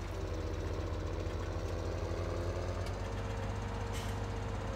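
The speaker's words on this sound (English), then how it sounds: "Take this tractor down to the shop here." Tractor engine in Farming Simulator 17, a constant loud rumbling drone with a throbbing low pulse, steady and unbroken throughout.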